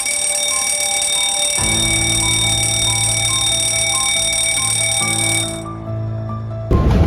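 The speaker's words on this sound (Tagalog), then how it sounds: "Sound the fire alarm." Shipboard fire alarm sounding during an abandon-ship drill, a loud sustained electronic tone ringing steadily for about five seconds, briefly dropping, then resuming, with no voices over it.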